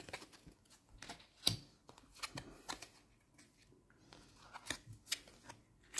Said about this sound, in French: Je vais tirer 3 cartes de l'oracle des amoureuses.